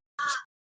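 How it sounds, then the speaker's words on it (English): Crow giving one short, harsh caw, fairly clear and distinct against silence. "We can hear the crows in the background"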